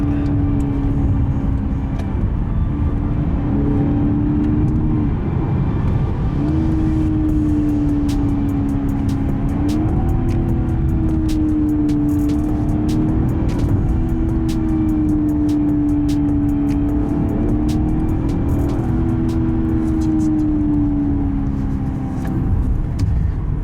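A new BMW 7 Series drives in sport mode, its engine a steady, continuous drone heard from inside the cabin with a slowly wavering pitch, fairly loud and with no talk.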